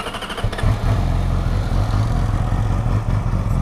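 A 2009 Yamaha R6 sport motorcycle, black and gold, cranks and fires up, then settles into a steady, close, rumbling idle with a slight mechanical clatter.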